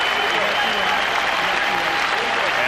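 A sustained standing ovation from a crowd of 21,000 at the Palace of Auburn Hills during a 1991 NBA playoff game, a dense, steady roar of clapping and cheering filling the arena without letup.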